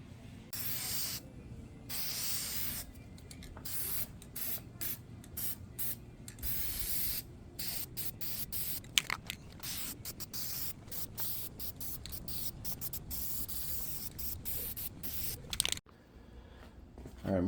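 Spray paint hissing onto a heat riser kit for a 1948 Willys Overland truck, in repeated bursts of varying length with short pauses between them, close and fairly loud.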